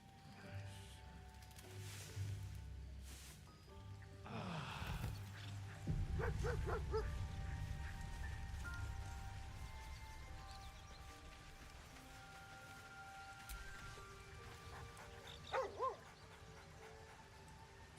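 A dog in a video game gives a few faint, soft barks and yips, with one cluster mid-way and a short double bark near the end, set against a quiet, low background hum.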